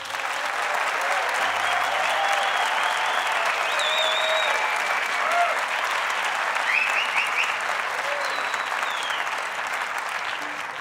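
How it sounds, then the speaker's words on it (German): A concert audience claps to vote for the next song at a request show, a dense, sustained roar of applause from a large crowd lasting throughout, with scattered cheers and whistles mixed in. "Wer will, dass als nächstes Lied Nummer 1 kommt, der klatscht bitte jetzt."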